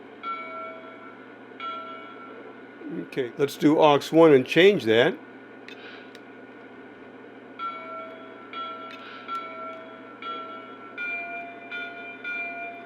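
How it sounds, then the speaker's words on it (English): Lionel GP7 diesel toy train engine sounding its bell sequence, a loud burst of rapid ringing tones lasting about two seconds, followed by quieter sustained electronic train sounds with brief talk at the start. "Let's check out the bell sequence."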